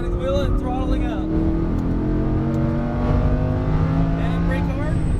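A Lamborghini Huracán powers out of a corner on a racetrack, its engine note rising loud and close in a sustained climbing roar, with a driving instructor talking over it.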